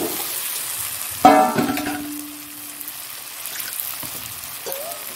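Eggs drop into sautéed masala for egg curry with a sudden loud sizzle that spikes and then settles into a steady crackling fry, accompanied by a brief clunk and a faint metallic ring, close up and with no talking.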